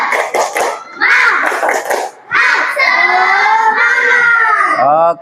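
A class of children claps and chants the Indonesian 'tepuk semangat' cheer during a classroom ice-breaker. Quick bursts of claps open it, followed by loud, sustained group voices chanting in unison.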